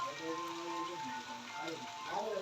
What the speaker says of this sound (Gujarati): વરસાદ આવી ગયો ફૂલ